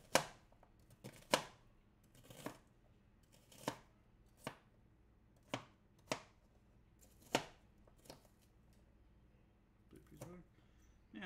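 Onions are chopped with a knife on a board in sharp, separate thuds spaced about a second apart, close and crisp. A softer rustle and shuffle follow near the end.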